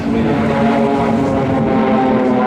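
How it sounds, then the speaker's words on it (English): Swiss Air Force Pilatus PC-7 turboprops of the PC-7 Team fly a display at the Kleine Brogel airshow, giving a loud, steady propeller drone with a strong humming tone that holds without a break. "The aircraft are known as the quietest and most economical turboprop in its category."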